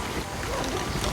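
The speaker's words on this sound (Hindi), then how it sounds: "बाहर तो तूफान आ रखा है, बहुत तेज हवा चल रही है" Strong storm wind roars steadily against a camping tent at night, a dense close rumbling buffet with no pauses.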